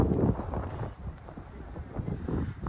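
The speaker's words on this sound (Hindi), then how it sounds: "अभी हवा चल रही है ठंडी ठंडी" Wind rushes across the microphone outdoors on a warm hilltop lookout above Alice Springs, a steady, close buffeting rumble with gusty swells.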